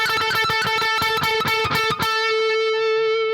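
Distorted electric guitar plays a riff with rapid tremolo picking, a fast run of loud, closely spaced notes that stops and leaves one note ringing out, with no talking.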